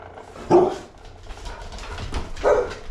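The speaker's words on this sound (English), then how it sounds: "Quit barking." A dog barks twice, a couple of seconds apart, fairly close, with quiet background noise in between.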